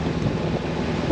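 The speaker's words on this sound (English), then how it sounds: "We saw up to 27 knots of wind so far." Strong wind of up to 27 knots buffets a sailboat off Maui, a steady dense roar of gusts over the microphone, with water rushing under the hull and no voices.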